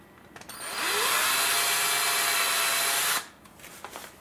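Power drill driving a short screw into a wooden block, one sustained high whir that spins up, runs steadily for about two seconds and stops, with faint handling sounds around it.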